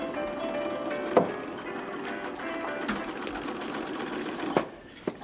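Sewing machine stitching rags: a steady, close mechanical whirr with a fast needle rhythm, broken by a few sharp clunks as it runs.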